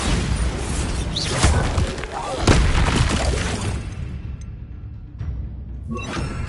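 Spell blasts in Hogwarts Legacy, loud booming bursts and crackling impacts layered over shouted voices, fading to quieter thuds near the end.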